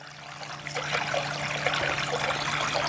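Water running through a VDR vortex drop riffle cleanup sluice, a steady close rushing trickle that swells slightly and continues without pause under a low hum.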